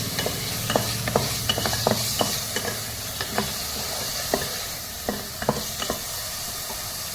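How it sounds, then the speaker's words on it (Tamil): Onion and tomato sauté in hot oil in a pan, a steady close sizzle broken by repeated sharp scraping strokes of a spoon stirring, with no voices. "இப்போ வெங்காயத்தையும் தக்காளியும் போட்டு ஒரு வதக்கிக்குவோம்."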